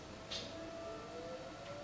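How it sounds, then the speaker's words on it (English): A faint, distant tornado warning siren test in the Midwest holds a thin steady wail in the background, barely rising above the low ambient hum, with a brief soft bump early on. "They test the tornado sirens every so often"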